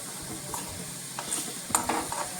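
Garlic sizzles in hot oil as a tempering for urad dal, a soft steady frying hiss with a few light stirring clinks and scrapes near the end.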